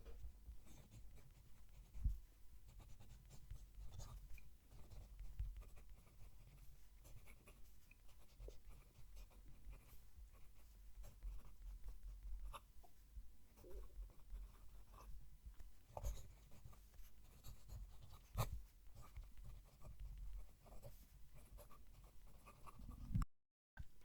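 A fountain pen with a fairly stiff nib writes a sentence on paper: quiet, scratchy strokes and light taps come in irregular bursts over a faint steady background, with no speech.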